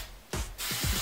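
Two short hissing bursts of aerosol hairspray, close up, the second longer than the first, with faint handling noise between.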